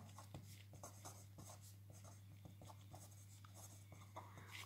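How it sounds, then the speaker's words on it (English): A pen writes a name on paper in a quiet room, with soft, close scratching strokes in short, irregular bursts over a steady low electrical hum. "first thing we have to do is we have to write our name"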